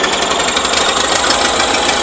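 A worn 450 engine runs roughly on one cylinder, giving a loud, close, continuous rattling knock with an uneven beat.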